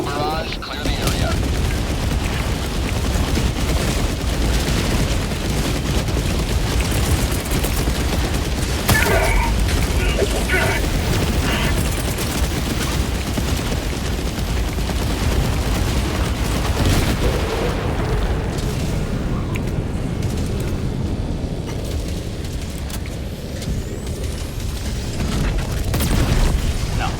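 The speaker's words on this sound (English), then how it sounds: "Firing orbital barrage. Clear the area." Heavy explosions from a Helldivers 2 orbital barrage keep booming in a steady, unbroken wall of blasts and crackling bursts, loud and close, while people speak underneath.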